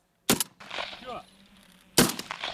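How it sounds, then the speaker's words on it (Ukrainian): Two sharp, loud pump-action shotgun blasts about two seconds apart, fired by an artillery soldier at pink balloons hung from a drone, with a person talking in the gap between the shots. "Їх артилерист має збити за чотири постріли з помпової рушниці."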